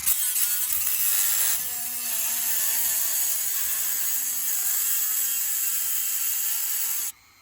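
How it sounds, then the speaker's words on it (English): A steady high-pitched whine of a Dremel rotary tool drilling into a metal coin box faceplate, running continuously for several seconds before cutting off. "I'm going to drill an X pattern with a Dremel in the faceplate of this coin box."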